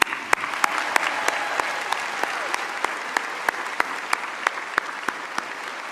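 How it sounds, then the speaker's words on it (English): An audience at a university graduation ceremony claps steadily for several seconds, a dense even applause with a few sharp nearby claps standing out. "Let's give everyone a round of applause."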